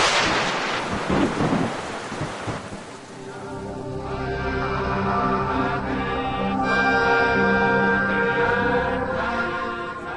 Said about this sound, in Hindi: केदारनाथ में भी बारिश शुरू हो गई।